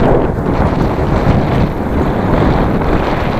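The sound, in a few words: wind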